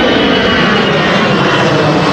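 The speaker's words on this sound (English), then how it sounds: "that noise in the background is just an EasyJet flight just passing over" An EasyJet passenger jet passes overhead during an outdoor road relay race, producing a steady, loud broadband roar that fills the whole moment.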